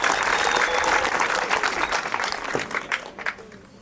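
Students at Marani Girls Secondary School applaud their teachers, loud sustained clapping that gradually thins into scattered claps by the end.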